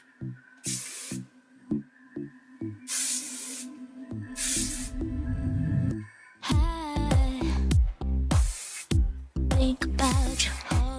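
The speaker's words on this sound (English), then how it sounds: "I'm going to use the Kenra working spray" Kenra working hairspray sprayed onto hair in repeated short and long aerosol bursts, close and loud, with quiet gaps between some sprays.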